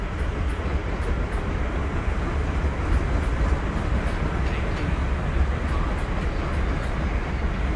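A train at Guildford station, a steady loud rumble of rolling stock and wheels on rail running throughout, broad and continuous, with faint voices in the background.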